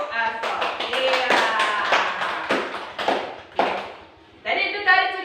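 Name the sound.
audience clapping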